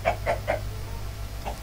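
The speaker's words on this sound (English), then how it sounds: "just doing my job, killing chickens." Chicken in Minecraft clucking in a quick series of short calls, then a pause and two more clucks, close and clear over a low steady game hum.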